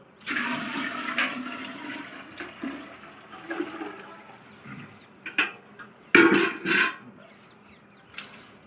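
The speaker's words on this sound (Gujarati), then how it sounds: "પાણી ભરી દઈએ છીએ અંદર" Water rushes and gushes into a container in a few loud bursts, separated by quieter moments; close and unaccompanied by speech.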